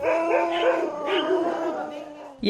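Dogs at an animal shelter housing around two thousand dogs let out loud, close howling and yipping calls in a short burst.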